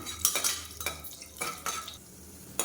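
Cashews and raisins roast in ghee in a pan for chana dal payasam, heard as a close sizzle under repeated scraping and clinking from a stirring spoon.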